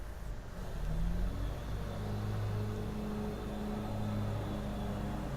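Lawnmowers run outside, a steady faint motor drone with wavering engine pitch, muffled and distant, continuing without a break.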